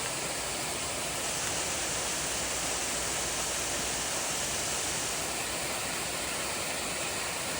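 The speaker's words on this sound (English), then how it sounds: "Beautiful waterfall" A waterfall beside the Appalachian Trail in New York roars as a steady, dense hiss of falling water, constant and unbroken throughout, moderately distant with no voices.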